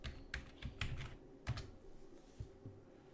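Quiet, irregular keystrokes on a computer keyboard as a password is typed into a terminal, a short burst of close, crisp clicks with small pauses between them.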